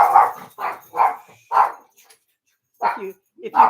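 Dogs barking at a house in a series of sharp, loud barks, four in quick succession, then a pause before a few more yips and barks nearby.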